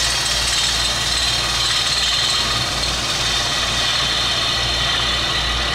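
Wood lathe turning a platter while a bowl gouge cuts toward the dead center, a steady loud motor hum with a constant bright hiss of cutting that runs unbroken and close, with no talk.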